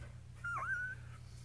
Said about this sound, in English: Who's whining?